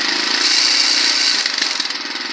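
A Chinese small engine with a reworked exhaust runs steadily close up, a buzzing, raspy drone with a fast pulsing rhythm that stays loud and fairly even throughout.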